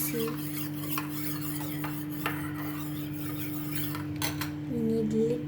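A spoon stirs instant coffee in a cup, giving soft scraping and light clinks over a constant low hum, with a brief stronger swirl of clinking near the end.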